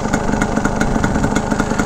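A 1982 Yamaha YZ250 dirt bike engine idles low and steady, a loud close putter with a regular mechanical clatter and no voices.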